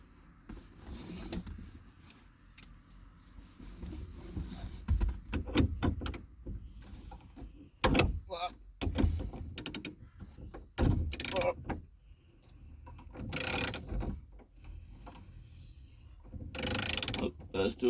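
The sunroof mechanism of a 1992–96 fourth-generation Honda Prelude is wound back by hand, making repeated clicks, clunks and short mechanical bursts between quieter gaps, with a person talking at times.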